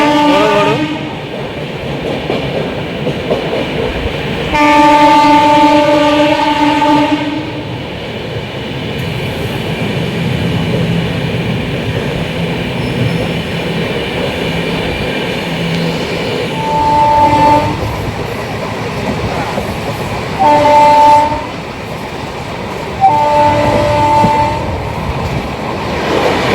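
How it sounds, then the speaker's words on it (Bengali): A big train at Santragachi railway station rumbles steadily, its horn blaring in one long blast and then several shorter ones, loud and near, with no talk. "এটা হচ্ছে আমাদের সাঁতরাগাছি স্টেশন, দেখতে পাচ্ছ বড় ট্রেন দাঁড়িয়ে আছে এখানে বড় বড়।"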